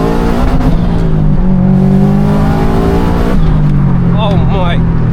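A 500 bhp Subaru estate pulls hard in second gear, its engine note climbing loud and close inside the cabin before a quick shift and renewed rise, with a voice speaking over it.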